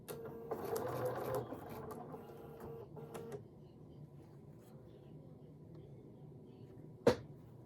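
A sewing machine stitches quilt seams for a small appliqué wall hanging in a couple of faint, brief runs, followed by quiet room tone and a single sharp click near the end.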